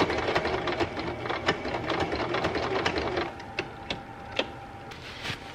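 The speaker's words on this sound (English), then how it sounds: "So I'm gonna start sewing." A sewing machine stitches a DIY collar in a home craft setting, running in a quick rhythmic clatter that stops and restarts, ending in a few separate isolated needle clicks.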